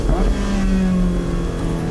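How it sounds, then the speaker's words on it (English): A Porsche 918 Spyder's naturally aspirated race-derived V8 drones loudly from inside the cabin, a steady, deep engine note that holds its pitch with no talking. "It is a race car's naturally aspirated V8."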